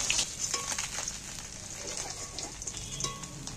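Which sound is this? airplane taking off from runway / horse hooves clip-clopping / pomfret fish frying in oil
pomfret fish frying in oil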